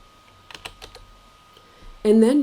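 A handful of crisp computer keyboard keystrokes as numbers are typed, about five quick clicks in a short burst, followed by a voice speaking.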